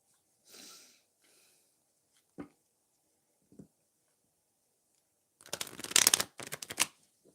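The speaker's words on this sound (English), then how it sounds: "So let's shuffle more cards for Brian." A few faint rustles and a sniff, then a burst of tarot cards being shuffled briskly up close, riffling in two quick runs.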